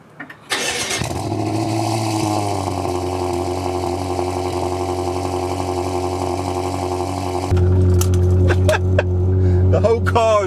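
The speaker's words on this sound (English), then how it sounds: "cold starts are switched on, full ARMYTRIX exhaust system, and this is what it sounds like" A BMW M6 rated at 700 bhp, fitted with a full ARMYTRIX exhaust, cold-starts with a sharp crank and loud bark, then settles into a deep, steady high idle. After several seconds the note drops lower and rumbles harder, with some talk over it.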